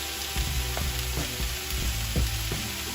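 Pepper-seasoned food sautés in a hot pan with a constant close sizzle, broken by soft scraping stirs every half second or so.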